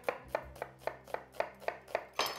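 An onion is chopped finely with a knife on a board, about nine quiet, evenly spaced cuts in a steady rhythm heard close up over a soft low background hum.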